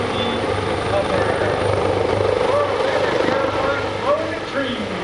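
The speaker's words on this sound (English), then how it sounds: "Advantages of the helicopter is the fact that it can indeed cover." New Jersey State Police A139 helicopter flying a demonstration at the Greenwood Lake airshow, a loud steady rotor and turbine drone with rhythmic blade thump, close overhead and continuous throughout.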